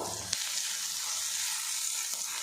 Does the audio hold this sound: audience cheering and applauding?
no